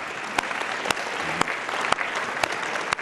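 An audience claps for guests at the One Ocean summit, with a sparse, uneven round of hand claps; a few sharp, loud individual claps stand out over softer background clapping.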